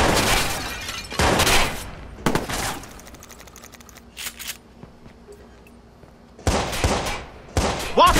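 Gunfire erupts during a firefight in the video game Watch Dogs: several loud, sharp bursts of shots separated by quieter gaps, with a final volley near the end.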